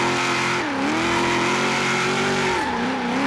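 Dajiban custom GMC Vandura van in Forza Horizon 3, its engine revving hard in second gear, a loud steady drone that climbs, dips briefly and pulls up again, with no talk over it.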